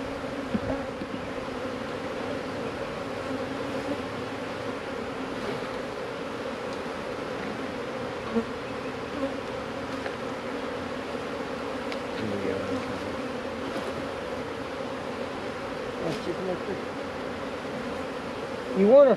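Honey bees swarm and buzz around an open hive during queen rearing, a dense steady drone that holds for the whole stretch, with soft rustles and no clear talk.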